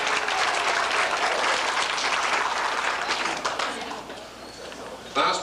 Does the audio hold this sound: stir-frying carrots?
no